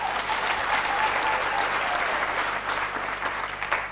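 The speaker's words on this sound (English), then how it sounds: "Can we clap hands to the mighty God?" Sustained applause from a large crowd at a university freshers' orientation, steady dense clapping filling the whole stretch with no pause.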